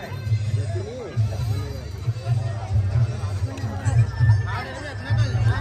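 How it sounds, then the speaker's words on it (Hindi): Dense crowd babble fills a reception party, many overlapping voices chattering at once with a steady low hum of people, some nearer speakers standing out above the general din. "बहुत भीड़"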